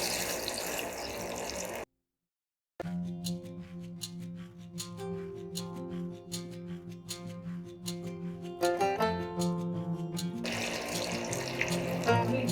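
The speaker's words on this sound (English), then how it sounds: "Now we'll shallow fry the tikkis." Chickpea and zucchini tikkis shallow fry in oil in a pan over medium heat, giving a steady close sizzle that drops out for a moment and is partly covered by background music.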